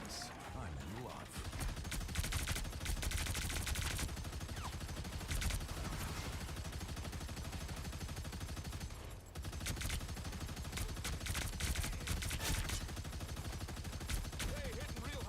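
Heavy weapon gunfire in the video game Marvel Rivals, a dense and continuous barrage of rapid shots that runs almost without a break at steady high loudness, with one short gap near the middle.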